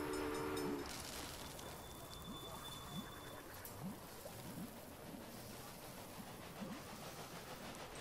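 Trains run in the railway strategy game Railway Empire: a steady rolling rumble with regular, evenly spaced wheel clacks, a brief tonal horn-like note at the start.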